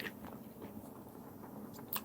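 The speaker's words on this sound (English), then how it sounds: "it's so crunchy on the outside and soft and mild on the inside" Quiet crunchy bites and chewing up close into a June plum frankfurter fritter, crunchy outside and soft inside, with soft crackling textures and a small crisp snap near the end.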